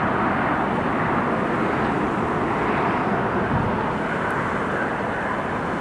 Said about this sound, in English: that's the Diamond doing a go round